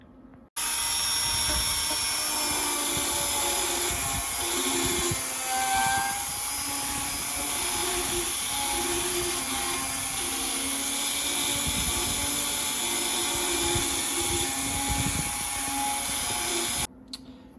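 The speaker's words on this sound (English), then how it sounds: "I'll use the Dremel tool to shape it the rest of the way" A steady high-pitched whine of a Dremel rotary tool shaping motorcycle bodywork on a 1989 Kawasaki Ninja ZX7 runs continuously at close range, with faint grinding variations throughout.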